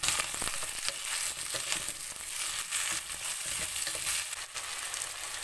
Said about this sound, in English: To this add 1 onion sliced.